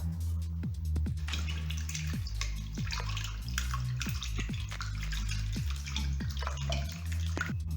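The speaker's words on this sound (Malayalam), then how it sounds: "ഇനി ഇതൊന്ന് അരിച്ചെടുക്കാം." Homemade pineapple wine strained through a sieve, a steady close-up trickle and splash of liquid with faint drips running the whole time.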